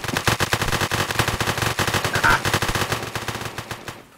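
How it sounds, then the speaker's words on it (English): Sustained automatic gunfire from a shootout in the video game One Armed Robber, a dense, loud rattle of rapid shots running continuously for about four seconds before cutting off. "I'd like to start shooting Daniel."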